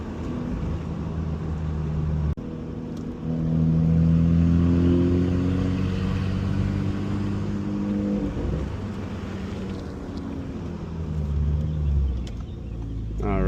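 An Audi RS5 driving in comfort mode, its engine note held at fairly high revs with a steady hum that climbs in pitch through gear changes, close and prominent, with a brief dip partway and a rising surge near the end.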